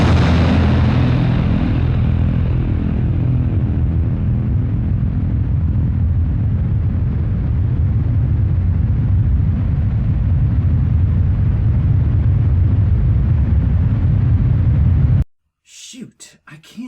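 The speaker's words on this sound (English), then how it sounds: "I think I'm going to crash." A loud, sustained roaring rumble like a crash-landing explosion fills most of the clip, dense and steady from the start before cutting off abruptly into near silence with faint scattered sounds.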